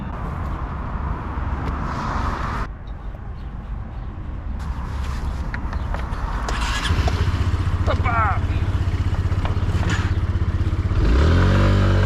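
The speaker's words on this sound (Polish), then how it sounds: "Ruszamy na skuter i jedziemy." A scooter engine idles, then revs and rides off with a rising motor drone and some clattering, while people talk nearby.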